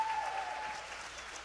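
Short burst of dense audience applause and cheering at a Buzz Butler show, loud and continuous for its brief length, fading slightly at the end.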